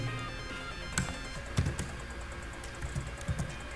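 Computer keyboard typing a print command in Python: a few sparse, soft key taps over a quiet background hum, close but faint, with no speech.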